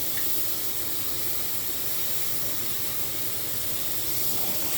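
Tomatoes fry with onion and ginger-garlic paste in a pan for a masala chicken curry, a steady, loud, even sizzle throughout.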